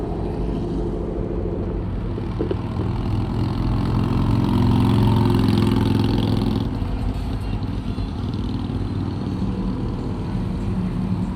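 Cars running at a drag racing event, a steady loud engine rumble with idling and revving throughout, slightly building in the middle, with faint crowd and background noise around.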